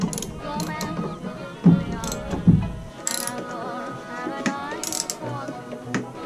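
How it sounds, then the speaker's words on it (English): Wrench work loosening the triple clamp fork bolts on a cafe racer motorcycle, with close ratcheting clicks and a couple of sharp metallic knocks in a workshop. "how we're going to do that is just by loosening up these triple clamp fork connectors"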